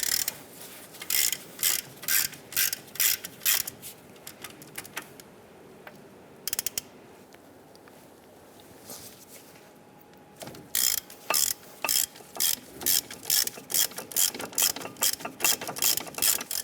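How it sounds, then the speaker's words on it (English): A hand ratchet with a 15mm socket loosens a brake caliper bracket bolt on a 1995-2001 Ford Explorer, rapid rhythmic clicking in repeated bursts, pausing midway before resuming, close and crisp. "Using our 15mm socket, I'm going to loosen and remove the bolt here"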